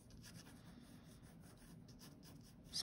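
Pencil or pen scratching and rubbing across thick watercolor paper while sketching a 5x7 character illustration, a steady soft close-up scratch with no talk and a brief louder stroke near the end.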